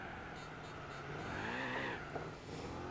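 Supercar in Gran Turismo 4 braking hard into a corner, engine note dropping as the tires squeal and skid briefly, loud and close, with no talk.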